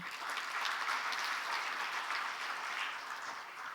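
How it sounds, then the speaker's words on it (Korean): Steady, dense applause fills a hall at an ocean and fisheries outlook conference, sustained and even throughout before easing slightly at the end. "여러분 박수 부탁드리겠습니다."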